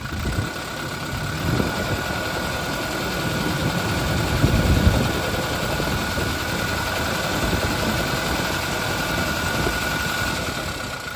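A 2017 Toyota Innova Crysta V diesel engine runs at a steady, close idle with a dull mechanical rumble, rising briefly in a mild rev midway before settling back.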